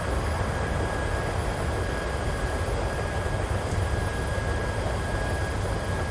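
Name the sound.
airplane climbing in flight, cabin engine noise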